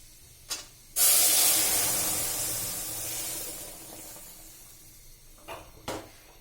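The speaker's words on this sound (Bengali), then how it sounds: "এখানে বাগারটা হয়ে গেছে, ডালটা দিয়ে দিব" Dal poured into a hot tempering hisses loudly in one sudden burst that slowly fades over several seconds, with a few utensil knocks before and after.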